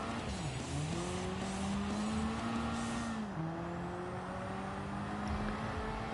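A race car in a racing video game at Spa, its engine whining steadily at high revs with pitch dips at gear shifts and a brief tire squeal, continuous and close with no talk.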